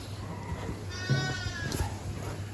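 Ewes bleat in a lambing barn holding pregnant sheep, with one or two wavering bleats from nearby over a steady low barn hum.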